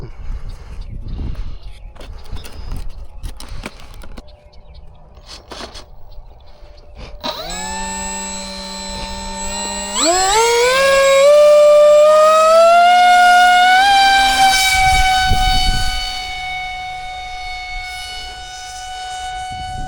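An RC model plane with a 1500 kV electric motor on its maiden flight spools up with a rising, whining motor tone that climbs steeply in pitch and holds loud and close before easing back.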